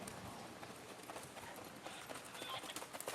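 Horse hooves cantering during a western dressage schooling session, a steady three-beat clip-clop drumming continuously at mid distance with no voices.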